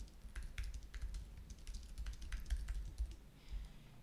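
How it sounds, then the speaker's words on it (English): Fingers type on a computer keyboard while entering text into a WordPress page, making a steady run of soft, quiet keystroke clicks with no voices. "I'm just going to type this in. So I'm going to type in my copy."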